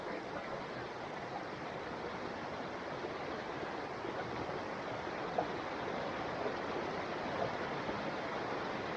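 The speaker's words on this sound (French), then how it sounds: "Alors me voilà arrivé sur le spot, cette belle rivière." Steady broadband rush of a flowing river, continuous and fairly loud throughout, with a couple of faint splashy accents.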